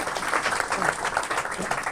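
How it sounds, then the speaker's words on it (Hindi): A group of people claps together to cheer a student who topped her class, a brief, fairly soft burst of mixed applause heard close in a room, with a voice faintly underneath. "ताली बजा दो एक बार जोर से"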